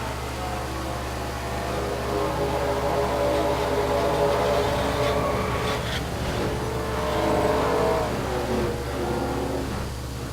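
Stock cars roar around the Mosport track in a NASCAR Pokemon Cup Series video game, a dense, loud engine drone with passing whooshes during a big multi-car wreck.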